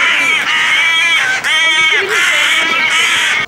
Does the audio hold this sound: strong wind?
no